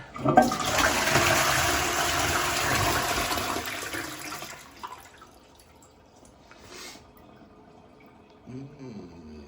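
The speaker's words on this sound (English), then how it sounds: "let's check that it flushes okay" A toilet flushes with a loud rushing surge for about four seconds after a small plumbing compression-joint repair, then the cistern trickles and refills quietly with faint drips.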